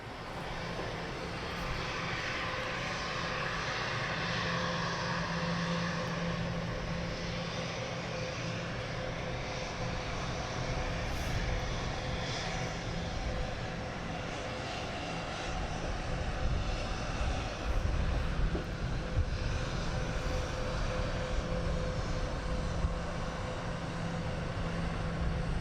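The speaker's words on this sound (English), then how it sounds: "Another biz jet." A business jet arriving at London Luton Airport, its steady engine roar and broadband rush holding loud and constant throughout, swelling slightly toward the end, with no talk over it.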